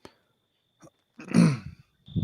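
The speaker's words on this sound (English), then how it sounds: "she did start coughing" A woman coughs in a quiet room: a small sharp catch, then a louder harsh cough burst and a final shorter cough, each separated by silence.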